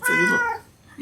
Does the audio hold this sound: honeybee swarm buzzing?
no